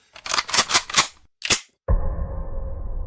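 Several sharp, loud gunshots fire in a quick burst of four, followed by a single separate shot and then a sudden low rumbling impact with a sustained tone.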